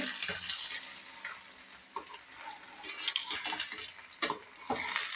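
Egg noodles frying over a medium flame with masala, salt and egg, giving a steady close sizzle with soft scraping and stirring clicks throughout, no voices.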